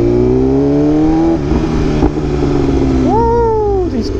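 BMW M1000RR motorcycle with a full titanium SC exhaust, a loud, close engine drone that shifts pitch as the rider changes gears, with a brief sharp pop or crackle partway through.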